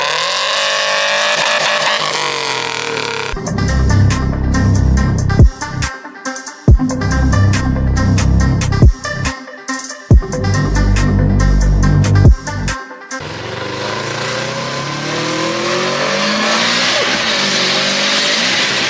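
A Subaru STI with a built short block, aftermarket injectors, big fuel pump and big turbo, idling loudly before a series of sharp rev bursts with abrupt cuts and crackles, then settling back to a rough idle.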